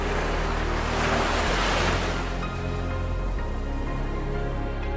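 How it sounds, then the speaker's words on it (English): Ocean surf at Kanyakumari rolls in as a broad roaring wash, swelling loudest early and then easing into a steady rushing hiss, with wind buffeting the microphone throughout. "Early in the morning we heard the waves."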